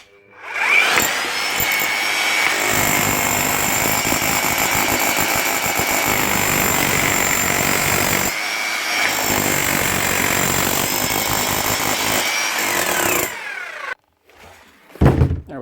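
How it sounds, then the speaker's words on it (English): A repaired Bosch 11318EVS demolition hammer runs in long, loud, continuous hammering bursts close by, pausing briefly mid-run before stopping near the end. "One Bosch hammer, up and running again."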